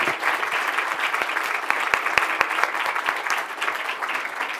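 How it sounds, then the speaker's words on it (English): An audience at a biotech conference panel applauds the panelists, dense sustained clapping from a crowd with a few louder claps standing out. "I want a big applause for my panelists."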